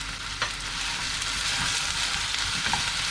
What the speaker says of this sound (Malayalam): ബ്രൗൺ കളർ ആവുന്ന രീതിയിൽ തന്നെ നമുക്ക് നന്നായിട്ടൊന്ന് സോട്ട് ചെയ്തെടുക്കണം